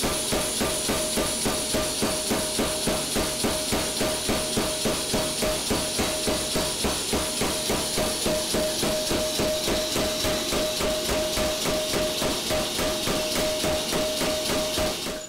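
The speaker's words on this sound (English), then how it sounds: "it has about a 90-pound what we call head or hammer on it, and that cycles up and down with a pneumatic cylinder that's inside the hammer right here" A custom blacksmith power hammer with a 90-pound head cycles on a pneumatic cylinder, pounding in a fast, steady, unbroken rhythm with a constant hiss and a ringing tone running through the whole stretch.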